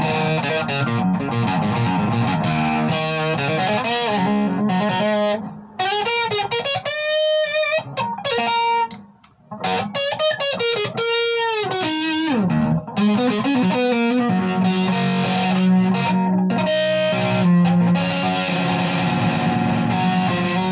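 Distorted electric guitar played dry with no reverb, loud chords and sustained bent lead notes ringing up close, with brief pauses between phrases.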